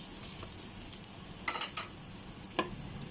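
Ginger and onion frying in a pan give a soft, faint sizzle with a few sharp stirring clinks, no one speaking.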